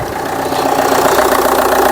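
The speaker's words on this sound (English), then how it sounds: "Okay, car's running." Vauxhall Zafira car engine idling steadily after a return fuel pipe repair, a close, continuous rumble with a slight rhythmic pulse and no speech.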